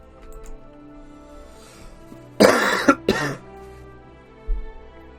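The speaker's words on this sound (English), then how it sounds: "That's the cough still going a little bit." A person coughs twice in quick succession, one harsh burst then a shorter one, loud and close over a quiet background of strategy game music.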